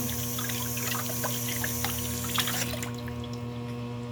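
Tap water runs steadily into a sink while a papaya is washed, a continuous splashing flow with a low hum underneath, close and without talk.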